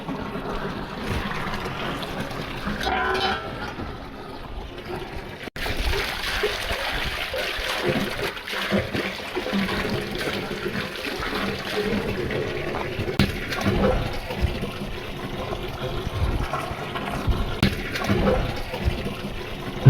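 Water runs and trickles steadily close by for the whole stretch, its flow briefly pausing near the start before carrying on, with no talk over it.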